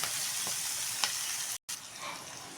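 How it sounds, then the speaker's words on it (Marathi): Green chillies fry in oil over a medium flame, giving a steady, close hiss with a couple of faint stirring taps and a brief dropout near the middle. "ही मिरची इथे मस्तपैकी फ्राय करून घ्यायची आहे"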